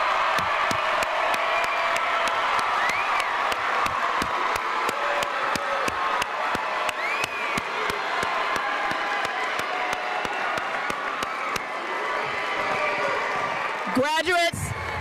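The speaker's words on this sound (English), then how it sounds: "please join me in giving them a round of applause" Graduation ceremony audience of families and guests applauding and cheering for the graduates, a steady loud wash of clapping with whoops throughout, ending in a rising whistle or cheer near the end.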